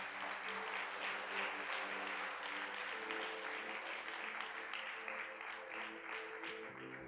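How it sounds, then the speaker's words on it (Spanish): A church congregation applauds during a sermon, sustained even clapping from many people filling the room with a steady hum of voices beneath, moderately distant. "Ayúdame a dar un aplauso a Dios."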